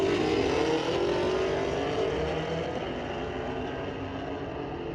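A Mustang roars through a burnout at a street-legal drag race at Mission Raceway, a loud, sustained engine drone with broad tire-scrubbing noise that slowly fades as it pulls away.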